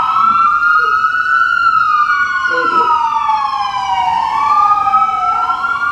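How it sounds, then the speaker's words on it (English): A loud emergency vehicle siren wails continuously outside an urban church, its pitch sweeping up and down as it passes close by, with a voice speaking briefly underneath. "We'll let the sirens go by."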